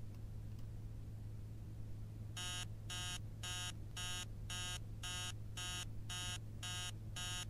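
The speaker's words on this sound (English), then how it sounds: "That alarm is so annoying." An alarm clock in the horror game Emily Wants to Play Too rings in rapid, evenly spaced electronic bursts over a low background hum, starting after a couple of seconds and repeating steadily to the end.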